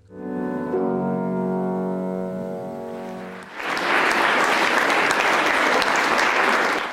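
After a sustained piano passage, an audience breaks into loud, steady applause that fills the rest of the moment, a farewell for a 52-year-old Estonia grand piano at an art school.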